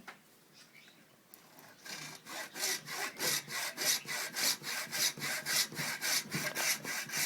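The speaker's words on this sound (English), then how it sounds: "Always start with a sharp blade, unlike this dull one" A dull hand saw cuts through a deer skull for skull capping, angled between the antler burr and eye orbit, making steady rhythmic rasping strokes that start after a quiet moment and continue evenly, close and alone.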